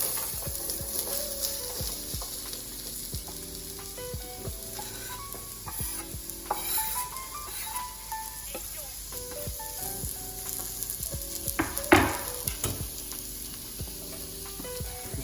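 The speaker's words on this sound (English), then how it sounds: "we're gonna go ahead and add in our onions and garlic and let those saute for a bit" Onions and garlic sautéing in oil in a pot for a vegetarian chili, with a steady sizzle under repeated scraping and stirring clatter from a spoon, plus one sharper clank near the end, fairly close and moderately loud.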